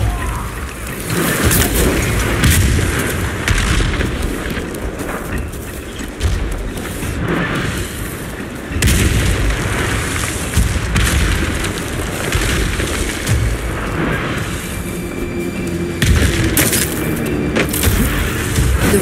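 Explosions from enemy fire boom in the samurai video game Ghost of Tsushima, heavy blasts that thud repeatedly through a dense, continuous battle din.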